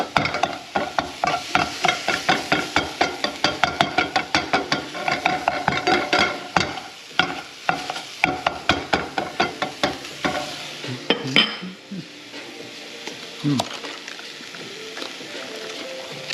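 Ground beef for high-protein tacos frying in a pan while a spatula stirs and chops it, a rapid series of close scraping taps over steady sizzle, slowing after about twelve seconds.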